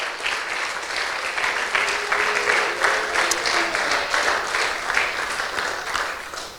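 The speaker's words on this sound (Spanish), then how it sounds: "Fuertes aplausos para Jesús." Loud, sustained applause from a church seminar audience, steady clapping filling the whole stretch without a break.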